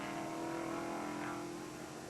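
Race cars in the 1980 SCCA GT-1 National Championship roar along the track toward a hill, a steady, droning engine note heard from a distance with a high, even hum.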